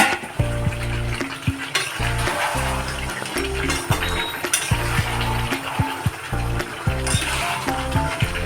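Chicken for Sunday biryani cooking in a pot, a loud, steady sizzle of frying that runs throughout, with a low tonal hum and occasional clinks of a utensil against the pot.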